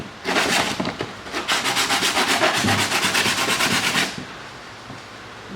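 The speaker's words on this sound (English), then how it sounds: "I'm just going to sand all the paint off from around the crack" Sanding paint off the cracked plastic bodywork of a crashed Nissan R32 drift car, a loud close rhythmic rasping of strokes for about four seconds, then stopping into quiet room noise.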